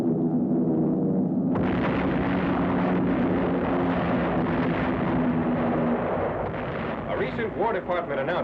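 Heavy anti-aircraft flak bursting around B-17 Flying Fortress bombers over Berlin in a 1944 raid, a dense continuous roar of booming explosions and rumbling aircraft engines, with a narrator's voice running over it.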